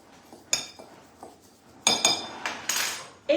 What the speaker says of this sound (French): Là, on a une fourchette pour mélanger comme il faut.